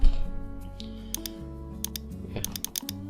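Keystrokes on a computer keyboard as a website domain name is typed, a fast run of sharp clicks in short bursts over a low steady background hum.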